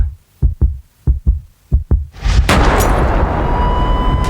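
A series of sharp, loud gunshot bangs, six evenly spaced reports, is followed by a sustained roaring burst, all with no talk, as a sound effect in a dramatized retelling of Martin Luther King's 1968 shooting.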